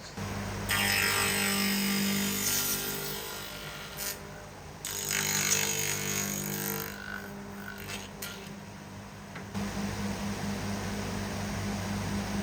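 A tenoning machine cuts a tenon and scribe into wood for a custom bathroom built-in, giving a loud, steady whirring roar with a few brief drops in level before it winds back up.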